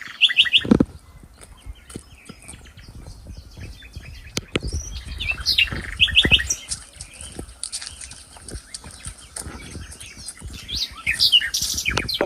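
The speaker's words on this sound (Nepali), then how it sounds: "अब एकदमै रमाइलो गाउँघरको यस्तै हो। चराचुरुङ्गीको आवाज सुन्नुभयो होला।" Birds chirping in a Nepali village: bright, clear tweets repeat in short bursts at intervals, close and loud, over quiet rustling and scattered outdoor background noise.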